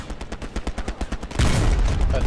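Rapid gunfire in the WWII video game Hell Let Loose: a steady rhythmic string of close shots, then a louder, denser burst of overlapping fire.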